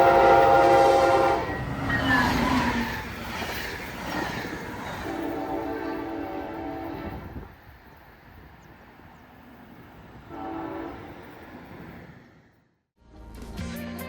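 A northbound Coaster commuter train passes at Leucadia, its horn blaring loudly at the start, then wheels rumbling and clacking along the rails before a second horn blast and a fade as it moves away.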